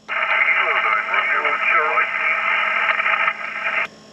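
A distant amateur radio station comes through a mobile HF receiver during a Parks on the Air activation in Monongahela National Forest, band-limited voice steady and loud for about four seconds before cutting off.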